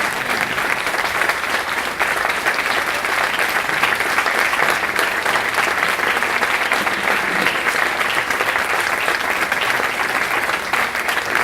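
A large audience at the Exaltació Reina de L'Horta 2019 gives a standing ovation to the band and its conductor, with dense, steady, loud applause throughout.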